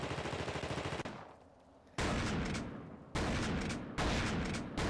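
Rapid shotgun blasts from the video game The Thing, a fast burst of loud shots followed by three heavy separate booms at roughly one-second intervals.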